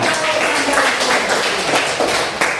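A classroom of students clapping their hands in a lesson, with steady, loud, continuous clapping that fills the whole short stretch.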